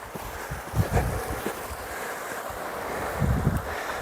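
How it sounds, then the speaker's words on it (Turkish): Water running through snow in a wintry monastery valley, a steady rushing wash with wind buffeting the microphone and a few heavier low surges, no voices. "size karla suyun akışını izleyin"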